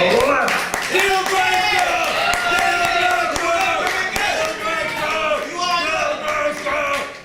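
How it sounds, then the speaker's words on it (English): At a poetry night, an audience gives a round of applause for D-Man, and the clapping mixes with cheering and crowd noise. A voice speaks over it through the whole stretch. "I think you gotta give a round of applause for D-Man"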